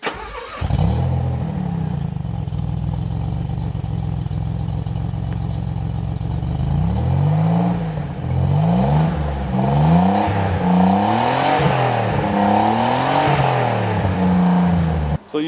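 A hot rod Maserati Biturbo with a race engine of about 300 horsepower, built with ceramic internals, idles loudly, then revs up and down repeatedly in rising and falling surges, close and continuous.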